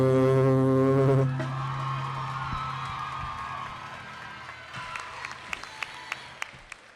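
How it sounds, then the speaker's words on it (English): Applause from a graduation audience for the Mount Vernon Royals performers, starting as a sustained music note fades and continuing as a broad, moderately loud clatter of many hands, with a few sharper claps near the end. "Please give them another warm round of applause."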